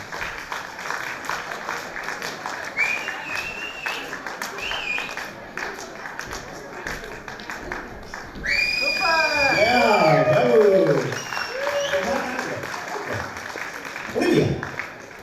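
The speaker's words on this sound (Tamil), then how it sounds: "இவர்களுக்கான கரகோஷங்கள்" At a community event, an audience claps for dancers, a steady patter of hands under a host's voice, followed by a burst of louder clapping mixed with cheers and whoops.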